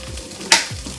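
Pork and onion stir-fry in a pan for Japanese ginger pork, a soft steady sizzle with one sharp scrape or clatter of the utensil in the middle.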